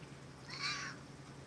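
A single house cat gives one clear drawn-out meow mid-clip, fairly close, over quiet room noise.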